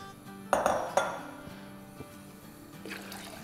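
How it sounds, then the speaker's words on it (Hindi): Water poured from a vessel into a cooking pot for rice, with clanking of metal pots and utensils: a couple of sharp clinks up front, then a soft steady pouring wash in a home kitchen. "तो इसमें 4 कप है तो मैं 16 कप पानी डाल रही हूँ"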